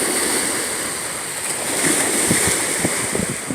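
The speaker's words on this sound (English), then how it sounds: "Can y'all hear the sounds of the wave?" Ocean waves at Rocky Point, a steady wash of surf with wind noise buffeting the microphone and a few soft rolling swells building toward the end, with no voices.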